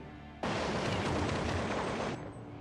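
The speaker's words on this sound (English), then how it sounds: "Shag's opponent sneaks up behind him and, in a hail of gunfire, cuts Arcane down." A dense, continuous burst of rapid video game gunfire from a first-person shooter match, lasting under two seconds, loud and close, then cutting off abruptly.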